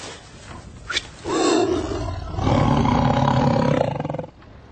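A tiger roars in a radio drama sound effect, a loud, close, deep growling roar that builds, pauses briefly, then swells again before fading.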